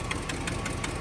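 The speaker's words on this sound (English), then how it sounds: "exhaust leak, which you guys can probably hear." A GMC dump truck engine with an exhaust leak idles nearby, a steady low rumble with a rapid regular ticking puff from the leak.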